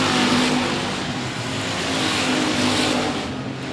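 Dirt track race cars roaring around the oval at 105 Speedway, a loud continuous engine drone that rises and falls slightly as the cars circle.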